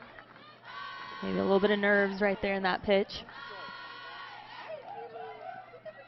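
A large crowd at an Oklahoma vs Wichita State college softball game swells into cheering and shouting in the middle, while a commentator talks over the stadium noise.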